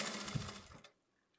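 A sewing machine stitches the side seam of a fabric pouch in a short, fast whirring run that stops abruptly, close and quiet, followed by near silence.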